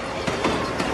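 The Yangon circular train rumbles along its track in Myanmar, a brief, steady clatter of rolling rail noise with no voices.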